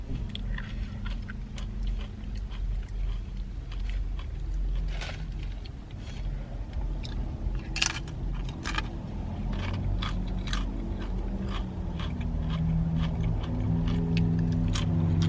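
Crunchy bites and steady chewing of taqueria street tacos, beef tacos, nachos and rice, close to the microphone in a continuous stream of crisp crunches with no talking.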